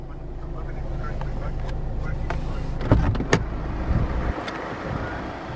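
A 2007 Ford Fusion 1.4 TDCi Zetec diesel engine idling with a steady low rumble, a few clicks and knocks over it, before the sound drops away near the end.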